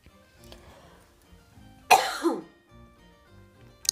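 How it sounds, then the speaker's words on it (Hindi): A woman coughs and clears her throat once in a loud, abrupt burst, with faint household background noise before and after. "गला ठंडी का मौसम है तो थोड़ा थोड़ा गला कभी कभी सहरा कर खांसी आ जा रही है"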